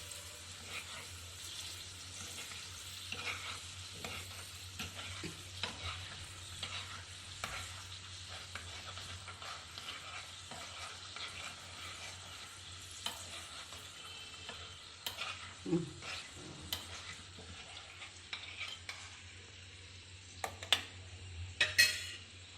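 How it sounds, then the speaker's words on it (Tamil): Cashews and raisins frying in ghee in a pan, with a soft steady sizzle broken by scraping and stirring from a spoon and a few metal clinks, heard close with no talk. "முந்திரி திராட்சை நல்லா வறுந்துச்சு."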